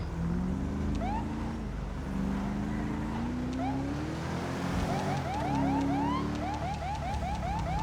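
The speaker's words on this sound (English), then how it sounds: "We'll use it for panic alarm." Police panic alarm siren from the GTA 5 LSPDFR game, a continuous wavering electronic wail with rapid repeated chirping yelps over steady vehicle rumble, loud and close throughout.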